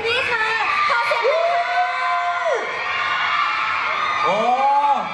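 Fan club crowd at a Kamikaze Nextreme Party fan meeting, loud cheering and high-pitched shouting that swells in bursts, with a voice on a microphone speaking through it.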